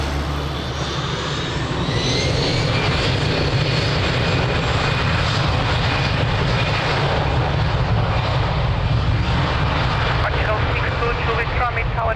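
A jet airliner roars down the runway on its takeoff roll at Lisbon Airport, a loud, steady engine rumble with a rising whine sustained throughout, while radio voices talk over it.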